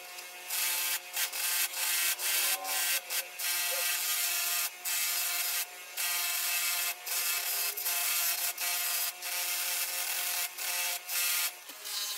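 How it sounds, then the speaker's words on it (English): A ball peen hammer head is buffed with Eastwood Tripoli compound on a buffing wheel, giving a steady close rubbing whir broken by short rhythmic bursts as the metal is pressed and lifted against the wheel. "I'm buffing with Eastwood Tripoli here."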